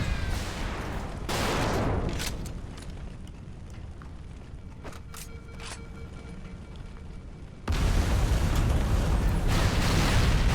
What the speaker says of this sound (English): This pistol is a beast of a weapon in this game.